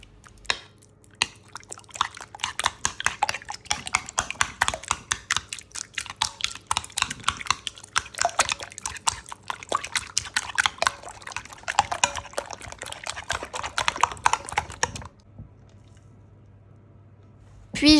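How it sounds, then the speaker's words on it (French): Egg and cream cheese mixture with garlic and herbs whisked until smooth, a rapid run of wet squelching, slapping strokes for about fifteen seconds, close, then stopping into near silence. "je mélange jusqu'à ce que ce soit bien lisse et bien crémeux"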